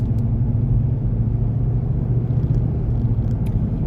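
A car cruises along a North Carolina road after a hay pickup, giving a steady, loud, close low rumble of engine and road noise that stays even throughout with no other sounds on top.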